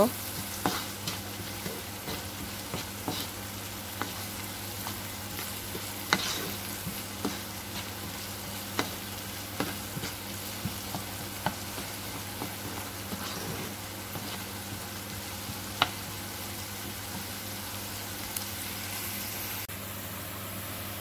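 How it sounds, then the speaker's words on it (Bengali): Steady, quiet sizzling of salted onions frying in oil, with occasional soft scraping and stirring clicks throughout. "লবণটা দিয়ে ভালো করে নেড়ে চেড়ে পেঁয়াজটাকে একটু বেজে নেব"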